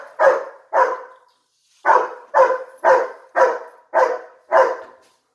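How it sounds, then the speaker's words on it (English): A dog named Ollie barks loudly and close by: two sharp barks, a pause, then a run of five more evenly spaced barks. "we're going to be competing with the dog"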